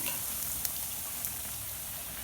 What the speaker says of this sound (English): Spaghetti's boiling.